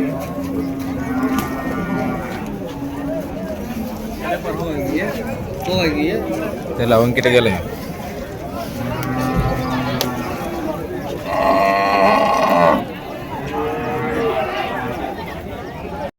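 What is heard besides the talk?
native bulls at Vaniyambadi cattle market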